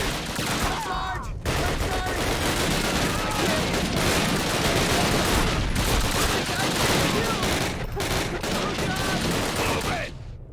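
Dense Call of Duty battlefield gunfire, rapid rifle and machine-gun bursts overlapping continuously and loud, with shouted voices mixed under the shooting.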